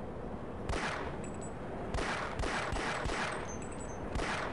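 Rapid gunfire from the Half-Life game rings out in sharp repeated bursts against constant dense background noise, with cracking shots spaced irregularly across the few seconds and no voices.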